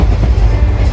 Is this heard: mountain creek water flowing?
no